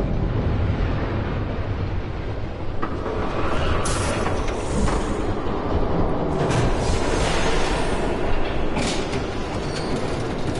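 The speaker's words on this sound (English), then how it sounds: "There's a train coming." A train rumbles past in the Batman Telltale video game, its wheels clattering rhythmically on the rails with occasional high squeals, a dense, steady roll that swells slightly in the middle, heard alone without voices.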